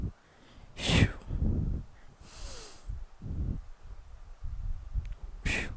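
A man breathes during incline dumbbell bench presses, with several sharp, forceful nasal snorts and exhales spaced across the set, loud and close to the microphone, with no talking.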